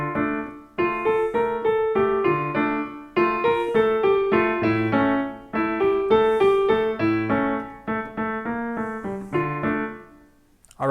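Solo piano playing a pop song with both hands, a steady rhythmic left-hand bass under right-hand chords and melody, close and clear with no voices, pausing briefly near the end.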